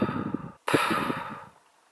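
A person imitates someone's heavy breathing while asleep, a deep noisy inhale followed by a brief pause and a long snorting, sighing exhale that fades out, close and alone.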